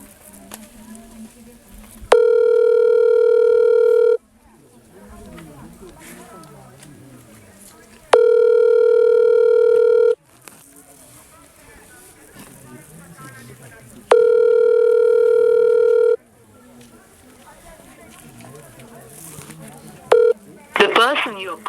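A phone call to a tehsildar rings out as three long, loud tonal ringback bursts at regular intervals, with people talking between the rings and a brief beep at the end.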